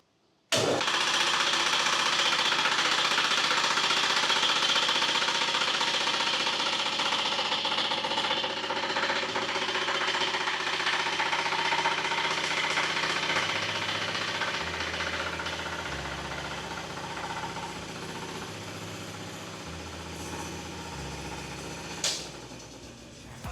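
A loud machine engine runs steadily with a harsh, rattling drone, easing slightly later on, with a brief sharp knock near the end.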